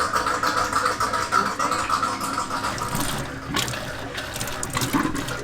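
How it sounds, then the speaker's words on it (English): Water runs steadily from a bathroom faucet inside an RV, a continuous close splashing rush with slight surges in flow and no voices over it. "So should we turn the bathroom faucet back on?"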